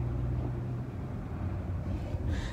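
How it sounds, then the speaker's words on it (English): Steady low rumble of highway traffic passing a few feet from a parked truck camper at night in New Mexico, a continuous loud wash of passing vehicles with no talk. "As is a highway, like literally a few feet from where I'm sleeping"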